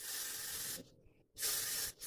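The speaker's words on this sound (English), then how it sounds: "take your spray on the perimeter only for right now, because we want to make it stick." Short bursts of hair spray hiss onto the edge of a stocking cap during a quickweave install, two close, loud sprays separated by a brief pause.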